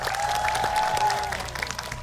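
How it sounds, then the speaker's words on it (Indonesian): Studio audience at an Indonesian TV cooking show gives a short burst of steady, fairly loud applause for the two competing families, with a faint tone and murmur underneath. "kita berikan tepuk tangan buat kedua keluarga."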